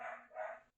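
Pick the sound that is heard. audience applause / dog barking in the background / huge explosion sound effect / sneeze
dog barking in the background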